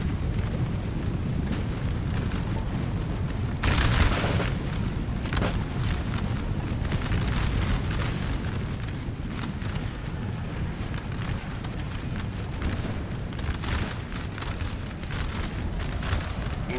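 Artillery cannon fire in a large Napoleon Total War battle, a dense rolling rumble of booms and bursts with one heavier blast early on, sustained loud and continuous like massed distant guns.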